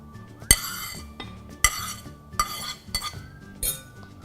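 Bacon goes into a paratha mix and is stirred with a utensil against a bowl, making several sharp clinks and knocks at irregular intervals, close and moderately loud.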